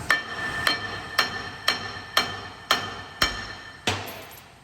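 A hammer strikes a Dodge Ram wheel hub seven times in a steady rhythm, each blow a sharp metallic clank with a short ringing tail, close and alone.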